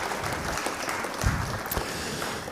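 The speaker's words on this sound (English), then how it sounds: "We'll give an applause on that one." Applause from spectators at a pool challenge match after a good shot, moderate and steady clapping in a hall that continues under a faint background with no clear talk.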